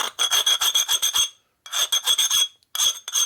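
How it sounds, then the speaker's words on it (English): A hand file smoothing the sharp edge of a Harley 650 single Sportster engine piston, rasping in quick rhythmic strokes, close and loud, in three bursts separated by brief pauses. "the file gives you the nice smooth finish you want"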